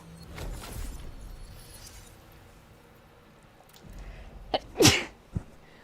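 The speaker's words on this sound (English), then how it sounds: "My mom is sneezing." One sharp indoor sneeze bursts out near the end, preceded by a soft breathy intake and followed by a brief trailing sound, against quiet room background.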